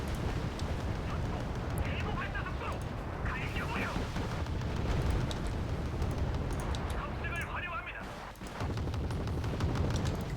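Type 80 anti-air missiles launching in the Wargame Red Dragon strategy game, a dense, continuous barrage of booming blasts and crackling bursts rolling on for about ten seconds, loud and heavy throughout.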